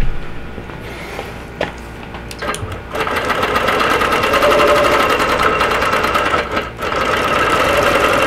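A sewing machine stitches steadily through a quilt being basted with soluble thread, a loud continuous whirring hum after a few short starts and stops at the beginning.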